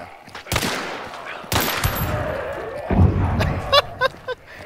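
Guns fire in the video game Hunt: Showdown, two loud separate shots with ringing tails, then a run of quicker, fainter shots, with brief voices in the background.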